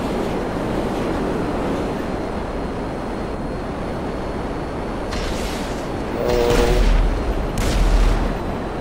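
A blast in GTA V Online rumbles as a broad, booming roar that swells twice near the end over a continuous low, noisy game ambience, with no speech over it.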